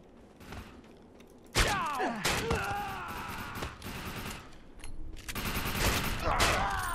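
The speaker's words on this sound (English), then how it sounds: "They're shooting where I was" Bursts of enemy gunfire in the video game Defiance, rapid cracks and rattling volleys in several clusters, loud and close amid game effects.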